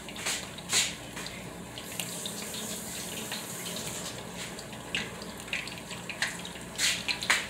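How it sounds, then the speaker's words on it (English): Food being rinsed under a running kitchen tap at home while cooking pepper steak, a steady hiss of water flowing into a sink with a few brief splashes and clinks, fairly close and alone without talk. "Let me go rinse these off real quick."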